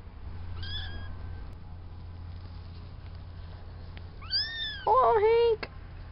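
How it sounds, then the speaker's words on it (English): Several high, thin kitten meows come in short bursts, one early and a few louder ones near the end, close by. "These are all Spanky's kitties."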